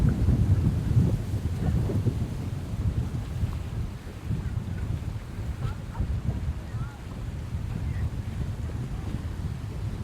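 Strong wind of around 60 km/h gusts across Jaffna's Pannai beach, a dense low roar of buffeting air and churning sea waves that stays loud and steady throughout, with no clear voice standing out.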